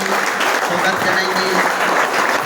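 Steady applause from an audience welcoming Basant Kumar Bhagat, a Rajee Dewan from Chhattisgarh, at an AIKPS training gathering, a dense continuous patter of clapping throughout with a faint murmur of voices beneath.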